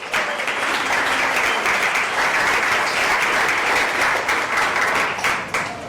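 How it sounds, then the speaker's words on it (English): Steady, full applause from a keynote crowd at a nomad festival in Athens, many hands clapping loudly and evenly throughout before easing slightly at the very end. "So give yourself a big round of applause."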